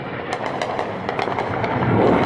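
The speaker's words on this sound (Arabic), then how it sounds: "قصف طيران حربي" Warplane bombing on the city of Maarat al-Numan in Idlib, Syria: a dense, loud broadband roar of explosions with repeated sharp cracks, swelling heavier toward the end, with no voices.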